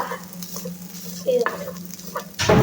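Scrambled egg stirred and frying in a pan for an egg thoran, with a steady close sizzle, scraping stir strokes throughout and a louder burst of sizzling at the end.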